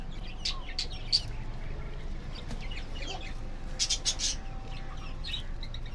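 Chickens, a hen and a rooster, cluck and chirp in short scattered bursts over a low background hum, fairly faint and irregular with a few sharper calls.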